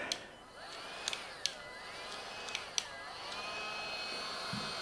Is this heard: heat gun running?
yes